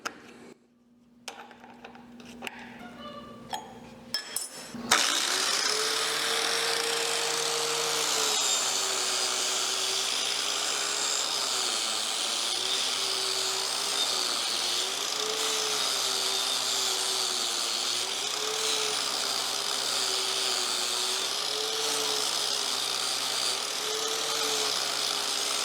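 An angle grinder fitted with an abrasive flap disc rated to 11,000 RPM, used to remove rust; a few seconds of handling noises, then the motor starts abruptly and holds a loud, steady high-pitched whine with slight wavering for the rest.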